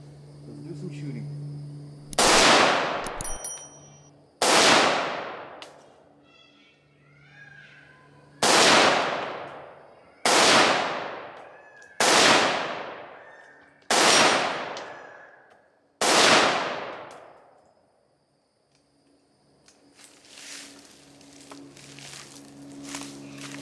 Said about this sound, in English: Okay, so let's do some shooting.